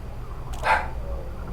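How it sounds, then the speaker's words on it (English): A single short bark from a dog somewhere in the background of a room, faint and brief against a low steady hum. "That's my dog in the background, Lola."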